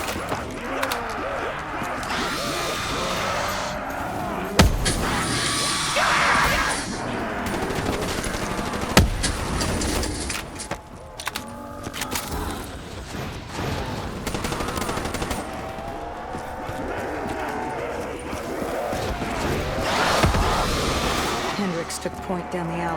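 Call of Duty Black Ops 3 zombie combat fills with rapid automatic gunfire and single sharp shots, loud and dense throughout, mixed with game effects and occasional voices.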